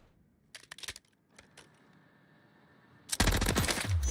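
Light machine gun fire in a video game: a few short bursts early on, a steady hum in the middle, then a loud sustained burst of rapid, close gunfire to the end.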